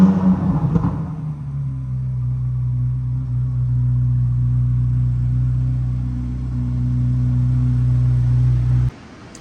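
A 2023 Corvette Z06 engine cranks and fires up, then settles into a steady, deep idle rumble that holds loudly before cutting off abruptly.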